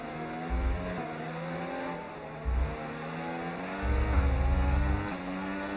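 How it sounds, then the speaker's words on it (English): Race car engines in a racing video game roar under acceleration at a safety car restart, a steady loud engine drone with harmonic whine and a few surging low bursts, no talk. "And the French engine will once again roar before the line."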